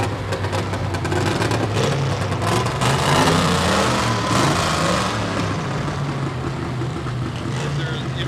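Car engines rev at the 2017 Brooklet Peanut Festival in a dense, continuous roar. Loud crowd chatter and voices blend in throughout.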